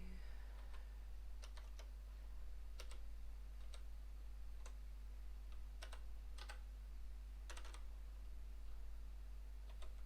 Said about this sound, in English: but you're just typing.